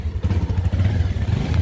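A motorcycle engine sputters and clatters close by, low and rough with uneven chugging pulses as it turns over, with no voices.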